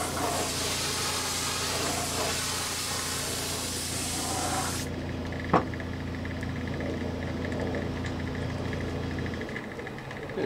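Spray gun applying paint to track day motorcycle fairing parts, a steady close hiss that cuts off partway, leaving a fainter background hum.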